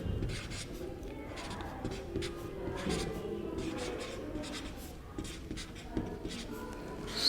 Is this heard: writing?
yes